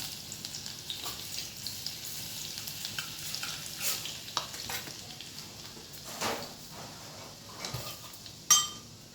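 Garlic paste frying in a pan gives a soft, low sizzle under repeated scraping and stirring taps, with a louder clink near the end.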